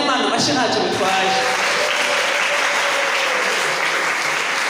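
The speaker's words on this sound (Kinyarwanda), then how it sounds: "Ratagaho dukomere Imana amashyi ntacyo bitwaye" A church congregation at a Pentecost service clapping loudly and continuously in praise, a thick roar of applause with voices mixed in underneath.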